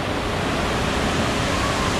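Water rushes steadily over the Wawa Dam waterfall, a loud, dense, unbroken roar filling the scene.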